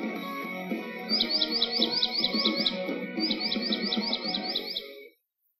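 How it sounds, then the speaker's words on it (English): A dark-eyed junco gives repeated rapid chirping trills in two clear runs, bright and fairly close, over a steady bed of soft background music. "The dark-eyed junco."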